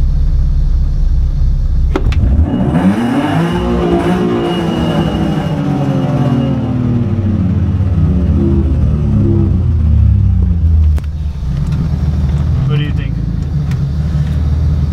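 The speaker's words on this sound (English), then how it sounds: "because I've never revved the car just in neutral" A car's engine revved in neutral while stationary, rising from a low idle into a long sweeping rev that peaks and slowly falls back to idle, loud and close; people talk over it at times.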